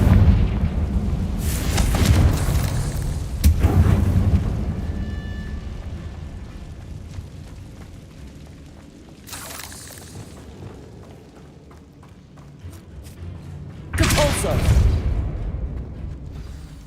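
Confringo spell blasts in the video game Hogwarts Legacy, three heavy booming explosions spaced several seconds apart, each with a rumbling tail that fades between hits.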